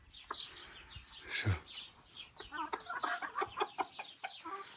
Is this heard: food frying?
no